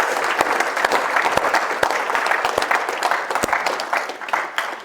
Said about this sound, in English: Can we just give a round of applause to our friend Barrie Schwortz?